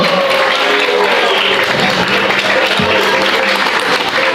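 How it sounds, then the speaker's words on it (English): Steady applause from a gathered congregation at a morning temple worship class, dense continuous clapping holding at an even level throughout, with faint voices mixed in beneath it. "Can we have a round of applause for the Bhaktivedanta Academy?"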